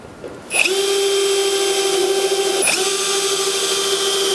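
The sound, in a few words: power drill driving V8 screws into roof ridge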